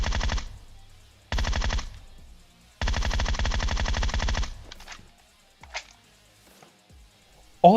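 Automatic Groza assault rifle fire in PUBG Mobile, aimed through a 6x scope: three loud, close bursts of rapid shots, the last and longest running about two seconds, then a few faint distant reports with no talking.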